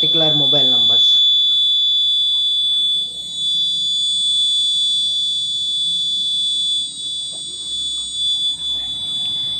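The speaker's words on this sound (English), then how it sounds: "It is giving the buzzer, and it is sending the SMS to the particular mobile numbers." A GSM-based coal mine gas safety system's buzzer sounds a loud, steady high-pitched electronic tone throughout, with a short voice at the start and faint background noise beneath.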